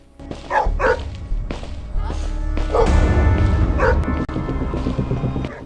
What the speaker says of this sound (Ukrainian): Зараз буде собака гавкати